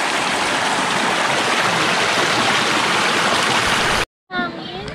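Mandala Falls in Barangay Camachile, Bulacan, roars as a steady, loud rush of falling water and stream flow, close and broadband, cutting briefly to a muffled underwater-like burble at the end.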